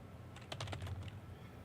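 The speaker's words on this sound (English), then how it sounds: "I'm typing up storm here." Quick burst of typing on a computer keyboard, a short cluster of about a dozen soft, close clicks in rapid succession against quiet room noise.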